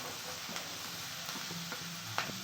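Shredded cabbage and capsicum sautéing in an oiled pan for veg fried rice, a steady soft sizzle with a few spatula stirs and scrapes, close and moderately quiet.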